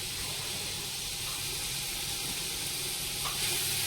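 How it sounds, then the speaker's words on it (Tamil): Ginger garlic paste fries with softened onion and tomato in a Healux cookware pot for country chicken biryani, giving a steady, close sizzling hiss throughout. No voices. "இஞ்சி பூண்டு பேஸ்ட் போடுறேன்"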